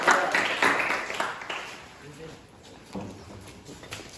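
A class applauds after a group presentation, giving a short burst of scattered clapping that fades as a voice speaks.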